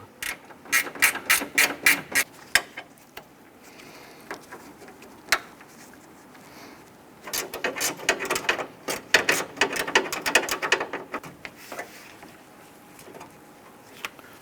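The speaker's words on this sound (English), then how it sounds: "Use your 10mm gear wrench. We wanna go ahead and loosen this and remove it." A 10mm gear wrench ratcheting bolts loose on a 2008-2013 Nissan Rogue radiator support bracket, loud rapid clicking bursts close by, a pause with a few isolated clicks, then another long run of ratcheting.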